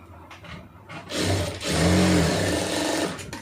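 A sewing machine stitches an armhole seam in a garment, its motor whirring up into a fast, steady mechanical run with a rapid needle chatter, close and loud.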